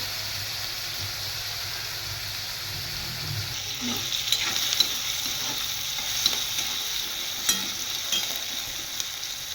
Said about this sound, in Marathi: तिथे मी कांदा आणि टोमॅटो ते भाजून घेत आहे, जो की लाल होईपर्यंत आपल्याला भाजायचा आहे